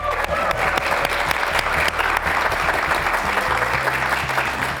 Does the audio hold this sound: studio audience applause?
yes